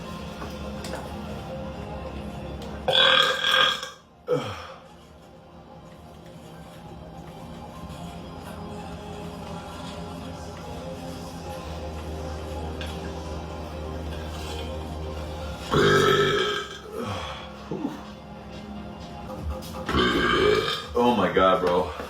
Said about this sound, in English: That's a lot of burps.